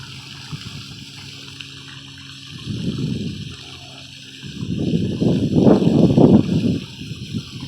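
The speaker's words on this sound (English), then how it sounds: "Look at this waterfall." Water rushes down a waterfall in an outdoor park setting with ducks nearby, a low murmur that swells into louder surging bursts of flowing water.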